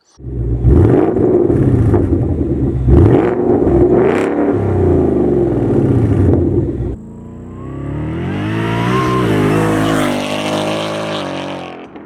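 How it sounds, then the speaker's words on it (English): A 2018 Roush supercharged Ford Mustang GT with axle-back exhaust revs hard, several loud deep blips and a sustained roar up close, then a brief pause and a rising, whining acceleration that swells and fades. "it has axle back exhaust, gives it the true muscle car note"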